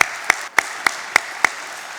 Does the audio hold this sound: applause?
yes